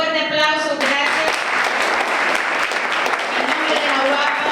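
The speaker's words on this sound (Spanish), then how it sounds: "también con un fuerte aplauso" An audience at a psychology panel at Universidad Abierta para Adultos in the Dominican Republic applauds Luis Vergés: steady, dense clapping that follows a brief tonal sound at the start and lasts about four seconds.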